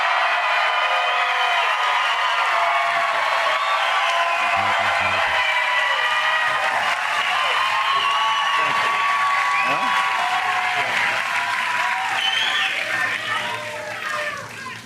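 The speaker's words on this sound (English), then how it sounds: "when you get sad about how many claps and how delusional this crowd is" A large crowd claps and cheers continuously for several seconds, dense sustained applause with scattered voices mixed in, tapering slightly at the end.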